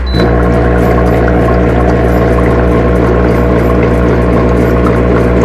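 A foot massager's water bubble function churns steadily, a loud continuous pump-like rumble with bubbling water layered over a low motor drone, and no voices.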